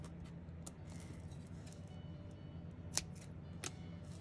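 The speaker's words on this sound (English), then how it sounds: "I'll just start cutting some tape." Tape being cut with scissors while paper piecing a stamped image, a few quiet close snips and soft clicks over a faint room hum, with one sharper snip standing out.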